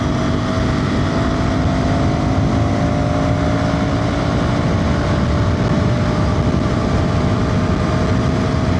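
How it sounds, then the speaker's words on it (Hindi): A KTM Duke 350 motorcycle rides through traffic, its engine a constant droning whine with a slowly rising pitch under dense wind and road roar, loud and unbroken throughout. "बाइक मस्त है यार, ड्यूक जैसी कोई भी नहीं है मार्केट में।"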